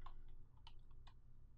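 Several soft keystrokes on a computer keyboard while working in Dynamo software, a few quiet clicks spaced irregularly over a low hum, very faint and close.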